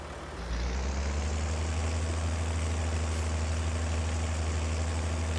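Deep, steady engine drone of a tractor pulling a small seed drill in Farming Simulator 22, revving up at the start and then holding a loud, continuous low rumble without talk.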